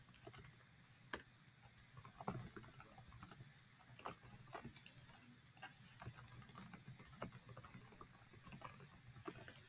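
Fingers tap quietly on a computer keyboard in a continuous irregular patter of light clicks, fairly close but soft, with nobody speaking.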